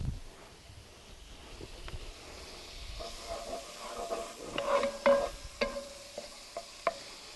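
Butter hisses softly in a very hot, preheated 10-inch Camp Chef Dutch oven, a low sizzle broken by a few sharper crackles and scraping stirs near the end.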